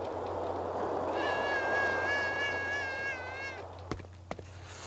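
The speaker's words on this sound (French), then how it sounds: "Salut le petit chat." A cat meows in the video game Thirty Flights of Loving, a single drawn-out, wavering mew over a steady ambient hum, followed by two sharp knocks.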